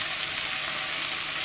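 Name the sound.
onions and carrots frying in a pot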